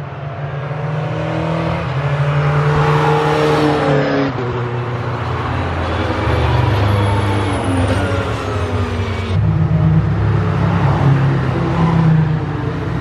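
Go-karts race past on an outdoor karting track, their small engines buzzing and droning loudly and continuously, with whining pitch shifts as karts accelerate and pass by, no talk.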